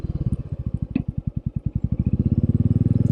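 A Royal Enfield Meteor 350 motorcycle turning in place, its single-cylinder engine thumping at a steady idle-like pulse that quickens slightly, close and loud with a brief metallic clink.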